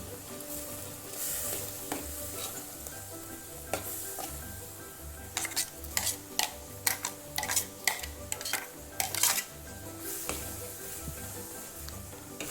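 Ground coconut paste goes into a pot of simmering pineapple pachadi and is stirred in, with a quiet bubbling simmer and a cluster of clicking spoon-on-pot knocks and scrapes in the middle, close but fairly soft.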